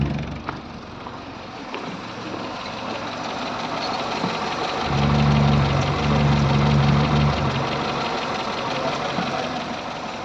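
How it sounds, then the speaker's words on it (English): A Morris Minor engine idles steadily during an exhaust gas leak test, a continuous low rumble with a slightly louder, rougher stretch midway and no talk. "got the engine running"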